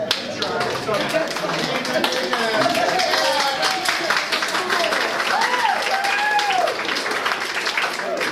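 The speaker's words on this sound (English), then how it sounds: "If you'd like to applaud that, that's fine." Applause from an audience at a graduation-season music event, steady clapping throughout with a few whistles and cheers rising over it, at fairly even loudness.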